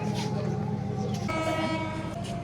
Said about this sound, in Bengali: হর্ন দিয়ে দিছে মানে ট্রেন ছেড়ে দিবে এখনই